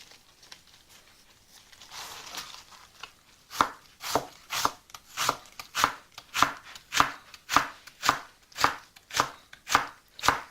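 Two wombok leaves are sliced thinly with a knife on a board, a crisp crunch followed by an even, rhythmic run of about a dozen close chopping strokes, with no voice heard.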